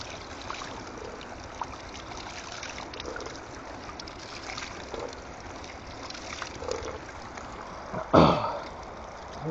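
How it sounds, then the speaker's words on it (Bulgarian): Water trickles steadily from a drinking fountain beside a river, a soft continuous splashing wash, with one brief louder knock near the end. "Ето е чешмата."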